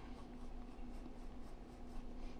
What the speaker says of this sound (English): So I'm going to start with this white color pencil